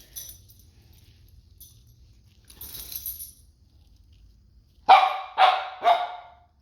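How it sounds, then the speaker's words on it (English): After a quiet stretch with a faint jangle, a dog barks three times in quick succession, sharp and close. "my dog gets a little bit stressed out when other dogs bark"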